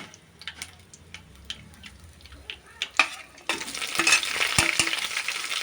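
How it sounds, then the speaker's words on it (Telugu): Garam masala and green chillies hit hot oil for a stuffed brinjal curry: a few soft clinks at first, then a sudden loud, continuous spluttering sizzle with sharp pops. "ఆయిల్లో చిట్టుపట్లు ఆడుతున్నాయి చూడండి"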